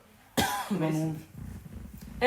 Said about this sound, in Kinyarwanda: ndi gukorora